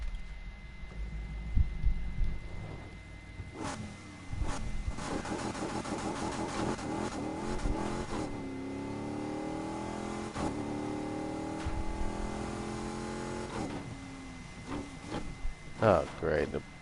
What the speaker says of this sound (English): this is the Chevrolet 350 motor